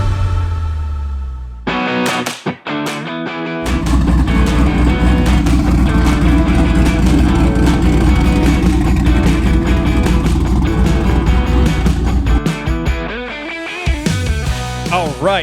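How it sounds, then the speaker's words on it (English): A car engine roars loud and close, with sharp revs and cut-offs at first, then a long sustained growl that settles and drops back into a few final blips. "Those car sounds were sent in courtesy of Tanner."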